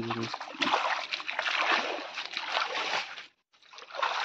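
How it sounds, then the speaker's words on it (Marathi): Water scooped from a drained stream pool with a metal pan and flung out in a forest setting, splashing and sloshing in repeated broad bursts, close and fairly loud, with a brief pause near the end. "पाणी असं घमेरात घमेरात भर आणि पुढे टाक"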